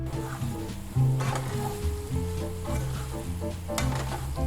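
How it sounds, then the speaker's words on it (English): Tempeh sizzling and crackling steadily in hot olive oil as it stir-fries, with occasional louder stirring clatters and a low hum underneath. "let's throw in our tempeh, start stir frying it for about 4 to 5 minutes."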